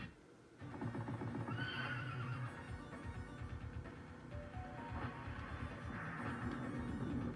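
Horse neighing in a video game, a loud whinny rising after a brief quiet start and followed by further snorts and whinnies over game background sound.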